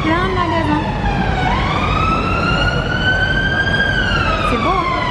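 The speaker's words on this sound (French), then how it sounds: "On a la sirène en fond." Emergency vehicle siren wailing along a London shopping street, a loud continuous rising and falling tone over steady traffic and street noise, with no talk over it.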